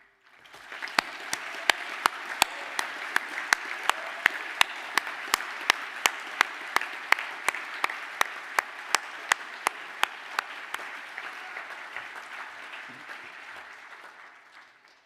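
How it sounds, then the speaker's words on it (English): Graduation ceremony audience giving a sustained round of applause, dense steady clapping that swells and holds for about fourteen seconds with a few sharp louder claps standing out, no talking over it. "please stand for a round of applause."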